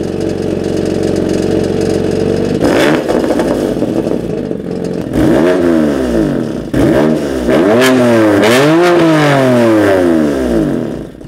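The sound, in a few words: car engine starting up with GT4 exhaust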